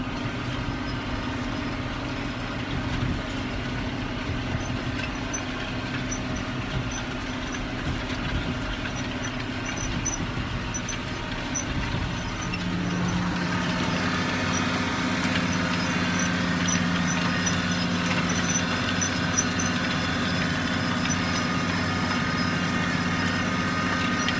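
A tractor engine drones steadily while disking a corn field, a continuous heavy rumble with rattling machinery that grows slightly louder and busier about halfway through, heard from inside the cab with no talk.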